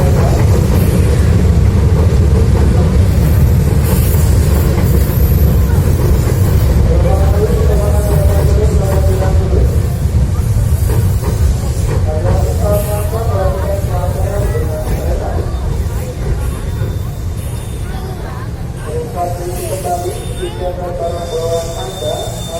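A Jakarta commuter line train arrives at Gondangdia station, a loud, steady rumble of rolling cars with intermittent wheel squeal, while station chatter and announcements carry over the top.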